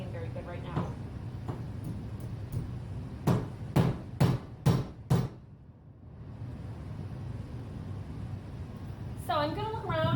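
A hammer striking nails into hardwood: five sharp, evenly spaced blows in quick succession, near and loud, with background noise and a brief voice toward the end.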